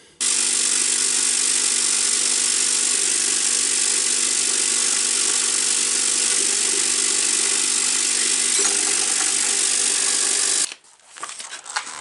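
A homemade vibratory tumbler loaded with rusty parts runs with a loud, steady rattling hum for about ten seconds, then cuts off abruptly, leaving a few quieter knocks and shuffles.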